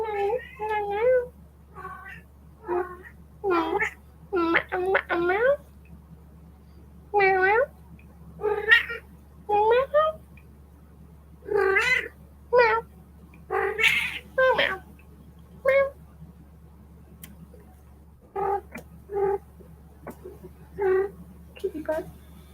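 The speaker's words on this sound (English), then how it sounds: "this is a talking kitty" A cat meows again and again in short vocal bursts, loud and close, with brief pauses between calls over a steady low hum.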